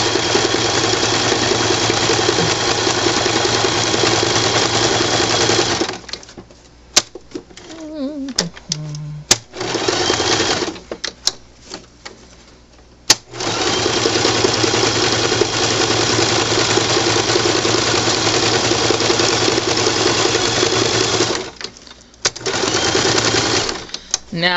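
A sewing machine zigzag-stitches Velcro onto a reusable sandwich bag, running in long, steady, rapid bursts separated by short pauses and clicks as the fabric is repositioned, close and fairly loud.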